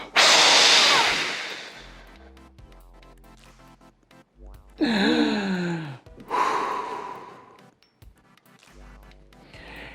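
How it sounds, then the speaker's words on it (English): Powerful, forceful exhales during a breathing exercise, with long loud breath bursts, some strained and voiced, separated by quieter pauses, up close and without speech. "You will exhale with all your strength"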